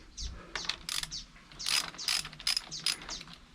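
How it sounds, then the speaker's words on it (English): A small closed-end wrench ratchets and clicks while loosening the rear master cylinder on a KTM 690 motorcycle, with several short bursts of metallic ratcheting close up and no talk. "use the little closed end wrench and the tin, and we're going to loosen the rear master cylinder"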